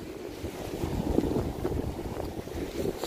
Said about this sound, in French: entre le vent et les vagues, je dois parler grave fort